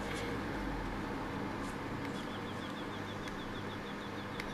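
A faint bird calls in a quick, repeated series of thin chirps at a tree-lined mountain lake, set against a steady soft outdoor hiss.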